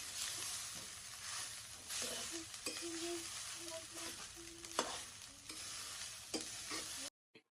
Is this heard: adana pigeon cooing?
no